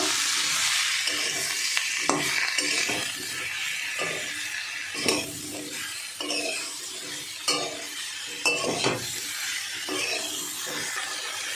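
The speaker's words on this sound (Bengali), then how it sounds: "এবার আমি ওই যে কুচিয়ে রাখা চিচিঙ্গাগুলো দিয়ে দেবো। মিশিয়ে নেব।" Chopped snake gourd is mixed into spice paste frying in oil, with constant sizzling and repeated spoon scrapes and clinks against the pan at an irregular pace.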